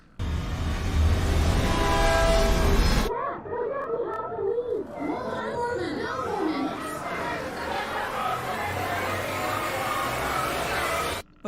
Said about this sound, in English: A derailed train.